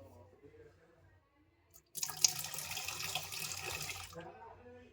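Water reddened with turmeric and lime powder is poured out in a steady splashing stream lasting about two seconds, close and fairly loud after a near-silent pause, with faint voices before it.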